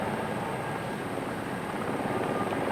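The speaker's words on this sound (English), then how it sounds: "This is the big rescue helicopter they bring up here to retrieve people out of canyons." A large rescue helicopter flying low in a canyon, its steady rotor thrum and engine roar filling the air, low and fairly close, holding constant without any voices.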